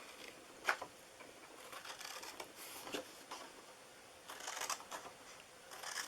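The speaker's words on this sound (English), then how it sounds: "to cut this, we are just going to cut up each side here" Scissors snipping up the sides of a paper cupcake treat box, a few short crisp cuts and faint rustles at close range, fairly quiet, with no talking.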